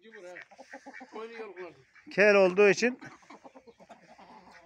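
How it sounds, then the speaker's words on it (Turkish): A bald-necked Koli rooster on a backyard poultry farm gives a loud, burst of calls midway, with a voice talking before and after it. "Baba bu horozun cinsi ne? Normal koli tavuğu."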